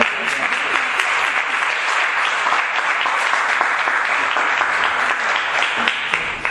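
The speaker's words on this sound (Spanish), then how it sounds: "Un aplauso fuerte." Loud, sustained applause from an audience honoring a teacher receiving a medal at a school farewell event, dense steady clapping filling the whole stretch without a break.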